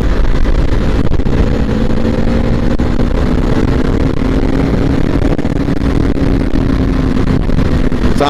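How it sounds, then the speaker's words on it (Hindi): Bajaj Pulsar NS200 BS4 motorcycle engine droning steadily while riding, loud and close with constant wind rush, and the pitch slowly rising as it accelerates. "साइलेंसर से तो पट पट की आवाज आ रही है"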